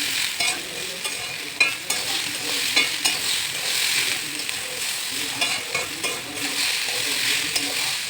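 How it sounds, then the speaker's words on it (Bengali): Squash, potato and peas frying with spices in a pan as they are stirred, a dense close sizzle with repeated scraping and knocking from the spoon, fairly loud throughout without talk. "স্কোয়াশ, আলু আর মটরশুঁটি এটা দেওয়ার পর ভালোভাবে নাড়িয়ে চাড়িয়ে নিলাম।"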